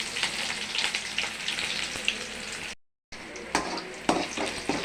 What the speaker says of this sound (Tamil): சின்ன வெங்காயம், கொஞ்சோண்டு பெரிய வெங்காயம் போட்டுருக்கோம்.